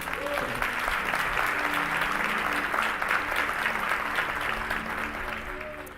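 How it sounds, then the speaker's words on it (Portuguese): A church congregation at a Portuguese-language worship service breaks into sustained applause, a thick wash of clapping from many hands that holds steady and then begins to taper, with faint voices underneath. "dê um aplauso ao Senhor"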